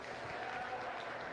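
Steady applause from the audience at a county fair livestock arena show, quiet and distant, a continuous wash of clapping with no talk over it.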